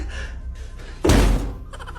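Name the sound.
person bumping into a door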